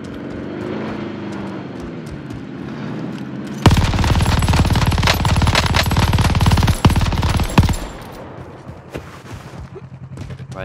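Sustained burst of mounted machine-gun fire in Call of Duty Warzone, a dense rapid rattle lasting about four seconds, loud and close, set against a droning aircraft engine on a runway map, with a voice talking before it.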